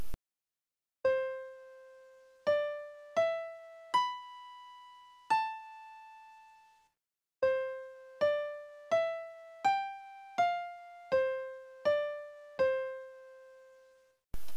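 Piano melody from the Final Fantasy VII video game, a sequence of single clean notes struck one after another with ringing decay, including a longer held note, played alone in a quiet backdrop.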